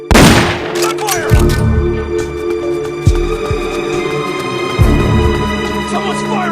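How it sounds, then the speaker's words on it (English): Sustained gunfire in the video game Metal Gear Solid Peace Walker, a dense fusillade of loud shots with a few heavier booming hits over a humming background. "Someone's firing at us!"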